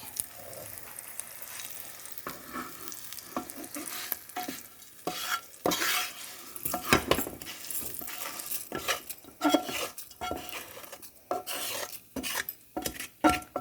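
Ridge gourd peels are stirred and fried in a pan, with a steady soft sizzle under repeated scraping of a spoon against the pan, close and moderately loud.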